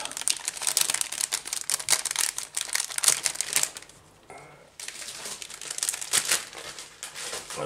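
Plastic resealable bags holding parts of an HK Models 1/48 scale Lancaster kit crinkle and rustle steadily up close, with a short quiet pause midway before the handling resumes.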